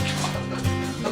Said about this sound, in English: Puppy is a Border Collie mix.